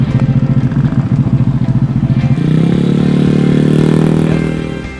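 A motor vehicle, most likely a motorcycle, pulls away from a traffic light: a steady pulsing idle-like engine note, then a rising, revving acceleration that swells loudly and holds before easing off, with no talking.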